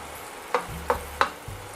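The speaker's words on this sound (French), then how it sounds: "je veux pas que ça grésille plus" Calf liver and vegetables fry in a hot pan with a steady soft sizzle, broken by three sharp stirring scrapes close by.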